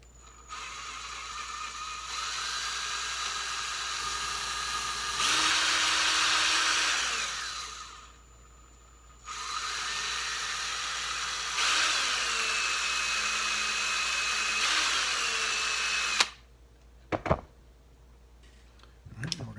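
Power drill boring a hole into an antler tip, a loud whirring motor running in long bursts with pitch shifts as it bites and slows, separated by short pauses, then a few clicks after it stops.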